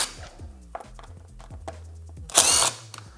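A power driver spins out the airbox lid fasteners on a 2023+ Suzuki GSX-8S motorcycle. It gives several short close whirring bursts with clicks and thunks between them, then one louder, sustained high whine near the end.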